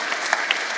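Dense, steady clapping from an audience at a museum inauguration ceremony for an aviation exhibit, loud and continuous throughout the brief moment.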